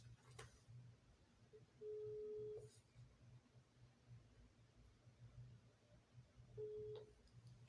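A telephone call placed live on air rings out: two steady ringback tone bursts, each under a second, separated by a pause, over a low background hum with a few faint clicks.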